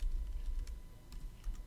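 Quiet computer keyboard typing during a Python coding lesson, a handful of soft, close key clicks over faint background hum, with no talking.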